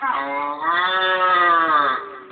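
A voice imitates a water buffalo with one long, low, drawn-out moo that dips briefly near the start before trailing off.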